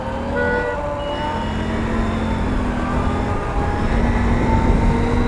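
Motorcycle on a road ride giving off a strange aircraft-like whine, a steady tonal hum over rumbling engine and wind noise, continuous and fairly loud throughout.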